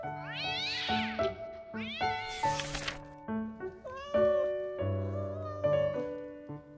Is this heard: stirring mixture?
no